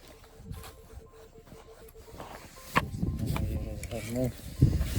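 A Minelab Equinox 900 metal detector gives short tonal signal beeps, warbling and repeating near the ground amid handling noise, with someone speaking at the end.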